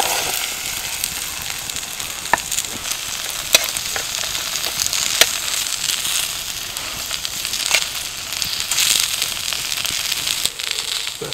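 Vegetables frying in melted coconut oil in a pan over an outdoor wood fire at a hammock bivouac camp, a steady dense sizzle with scattered pops and crackles throughout, no voices.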